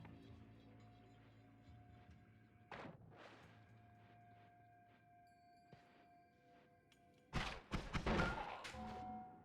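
Gunfire in the video game Noita: a sharp thump near the three-second mark, then a louder burst of several cracking shots toward the end, over a steady hum of game background sound.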